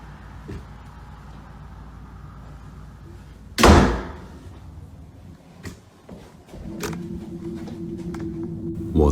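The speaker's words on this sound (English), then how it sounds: "the gap on the door before it closes on its own" A door in a dark house swings shut by itself with a single loud close thud, followed by quieter knocks and rustling and a steady low hum against faint background noise.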